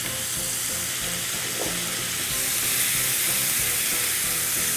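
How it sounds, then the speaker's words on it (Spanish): Chicken and vegetables sauté in a frying pan, a dense, loud hiss of frying that holds steady throughout, with faint stirring underneath and no speech. "En el mismo sartén para que tomen el saborcito rico del salteado de nuestros vegetales."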